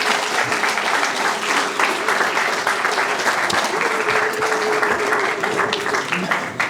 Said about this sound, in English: Can you give yourselves a round of applause again for everything?